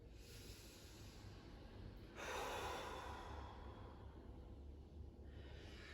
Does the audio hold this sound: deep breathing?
yes